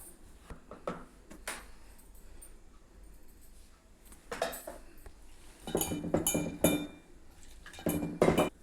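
Bajji batter stirred in a bowl with salt, chilli powder and soda, giving scattered scrapes, clinks and taps of utensil against the bowl, close by and growing busier and louder toward the end.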